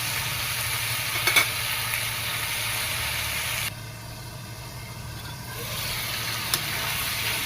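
Potatoes sautéed in oil in a pan for a fish curry, a continuous low sizzle with a couple of sharp utensil taps, dropping quieter midway before rising again, close with no talk.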